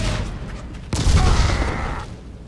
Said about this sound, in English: Look out for the fire. It's going to blow.